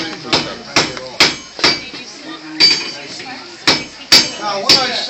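Two heated metal pieces are hammered together for forge welding: sharp, ringing hammer blows land near and loud in an irregular rhythm, about a dozen strikes with metallic ring between them.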